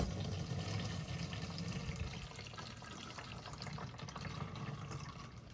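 Engine oil drains from a 2008 Jeep Wrangler in a steady pouring, splashing stream into a catch pan, continuous and fairly faint with no talking.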